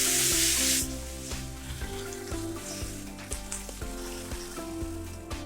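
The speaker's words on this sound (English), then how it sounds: "let's sear the pork" Pork tenderloin hits a hot pan for searing with a loud burst of sizzle, which settles into a steady, softer crackle under tonal background music for the rest of the clip.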